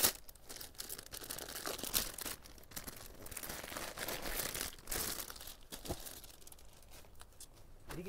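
Plastic packaging crinkles and crackles close up as a packaged navy blue silk saree is unwrapped, with continuous rustling, a few sharper tearing and crunching bursts, and no talking.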